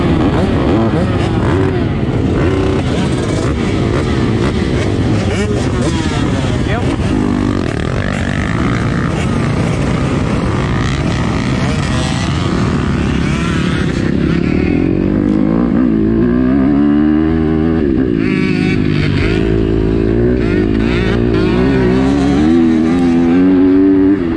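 A Kawasaki KX125 two-stroke dirt bike ridden hard, loud up-close engine wailing and rising through revs with wind buffeting, the pitch sweeping up and down as it accelerates and shifts.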